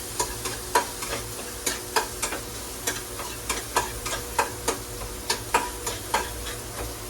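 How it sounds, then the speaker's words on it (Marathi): Rice being stirred and sautéed in a pan for egg fried rice, a soft steady sizzle under regular sharp scrapes of a spatula against the pan, roughly two per second, close and alone. "थोडासा परतायचा लाल पिवळा होईपर्यंत"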